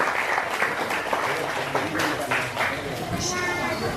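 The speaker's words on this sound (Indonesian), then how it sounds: "Kita beri tepuk tangan juga untuk Bapak Stefanus, pembuat ruding." An audience at a cultural event applauds a maker of ruding instruments. The clapping is lively and scattered over a few seconds, with voices chattering underneath.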